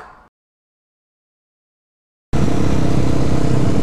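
A supermoto motorcycle engine on a group ride bursts in loudly after a brief sound and two seconds of silence, then holds a rough, steady close-up drone to the end.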